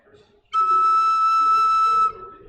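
A slide penny whistle pulled out to full length holds one clear, steady lower note for about a second and a half, close and loud, with faint room noise before and after.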